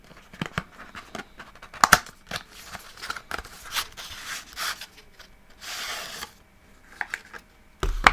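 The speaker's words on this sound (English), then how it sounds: "So just taking off the cellophane" Cellophane wrapping being peeled and crinkled off a Smartbud ear cleaner box, with close, intermittent crackling bursts and rustles scattered across the clip and a louder crinkle near the end.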